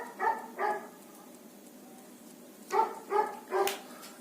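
A dog barks twice in quick succession, pauses, then barks three more times, each bark fairly loud and close with no voices over it.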